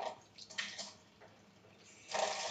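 Hot water runs from a kitchen tap in a steady wash, swelling louder near the end, with no voices over it.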